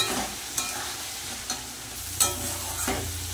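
Spice paste and boiled potatoes are stir-fried in a pan, a close, constant sizzle marked by several sharp scraping strokes of a spatula at irregular intervals.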